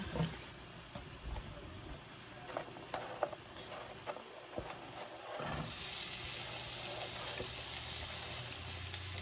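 Chopped onion hits a hot frying pan, a faint patter and crackle at first, then a steady broad sizzle that swells and holds, fairly close and with no talk.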